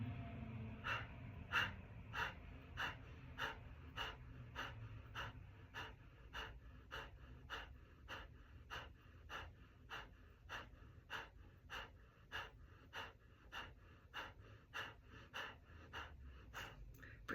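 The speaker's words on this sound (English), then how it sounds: "Breathe in again, last round." Slow, deep breaths in and out repeat in a steady rhythm, each inhale and exhale close and clearly audible for the whole stretch, with a voice speaking softly at times.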